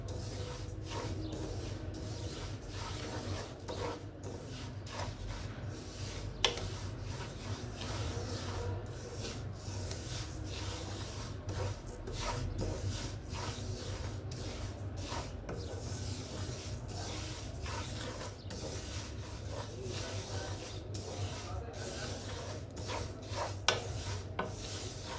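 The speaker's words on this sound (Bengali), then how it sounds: "আমি মুগের ডাল দিয়ে সুন্দর করে ভেজে নেব।" Mung dal dry-roasts in a pan for khichuri, giving a steady, close dry rustling and scraping as the lentils are stirred, unbroken throughout with no talk.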